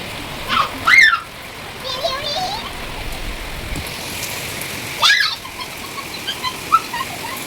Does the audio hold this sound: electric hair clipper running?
no